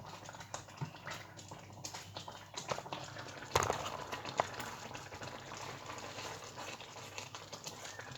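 Rice with wild garlic simmers in a pan, giving a quiet bubbling crackle close by, with soft clicks and scrapes as it is stirred constantly so it does not catch on the bottom.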